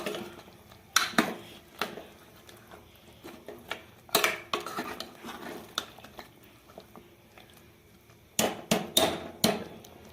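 Masala for a chicken curry is sautéed in a pan, giving a soft background sizzle broken by repeated loud clanks and scrapes of a spoon against the metal pan.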